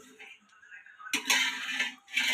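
Jackfruit seeds stirred and turned over slowly in a pan, giving soft metallic scrapes and clinks that swell into a louder, denser burst of rattling partway through, close and alone without voices.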